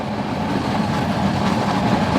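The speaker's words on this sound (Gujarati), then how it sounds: "ઓ એ ટ્રેન આવી. હા એ વેરાવળ જુનાગઢ હો ભાઈ, વર્ષો જૂની ટ્રેન છે" An old Veraval–Junagadh passenger train arriving near Sasan Gir, a steady low rumble of rolling wheels and carriages, close and continuous without voices.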